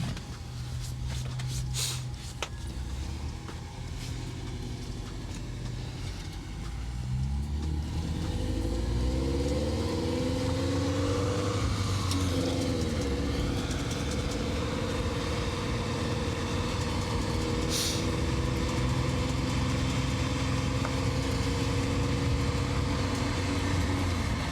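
A Subaru STI on rollers revs hard while its clutch burns, a loud, sustained engine roar that climbs in pitch and holds steady, with faint voices underneath.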